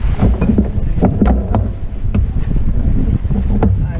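Wind gusts across a sailboat as its spinnaker is raised. A steady roar of wind buffets the microphone, broken by sharp flapping and knocking from the sail and rigging.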